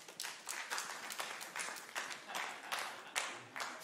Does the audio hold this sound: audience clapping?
yes